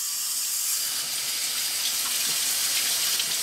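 Water running steadily from a kitchen tap fitted with a flow attachment, a continuous close hiss and splash into a sink with no pauses or talk.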